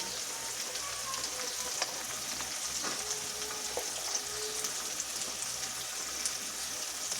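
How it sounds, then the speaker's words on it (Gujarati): Turmeric, coriander-cumin powder and dried chilli sauté in hot oil in a home kitchen. A steady, close sizzle carries light crackles and occasional stirring taps, with no talk. "મસાલાને થોડી વાર સાંતળવા દઈશું"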